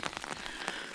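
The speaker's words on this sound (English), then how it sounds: "the rain is getting heavier" Rain pattering steadily on surfaces during a rainy outdoor walk, a soft dense hiss of drops close by with no voices.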